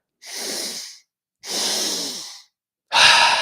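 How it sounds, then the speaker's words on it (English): Three forceful breaths during intentional hyperventilating breathwork, each a long airy rush lasting about a second with short gaps between, close and loud with no talking. "you might feel a bit lightheaded as you're intentionally hyperventilating here"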